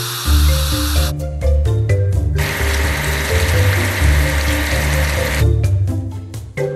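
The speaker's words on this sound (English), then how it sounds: "We need to wash the big off-roader." Steady water spray washing a big off-road vehicle in a video game, a loud continuous hiss over looping game music with rhythmic bass notes, the spray cutting in and out in bursts.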